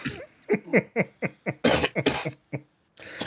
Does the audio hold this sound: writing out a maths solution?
no